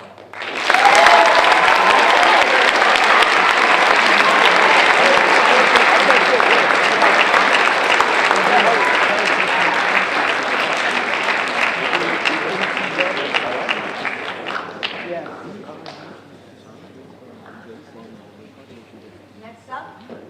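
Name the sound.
audience applause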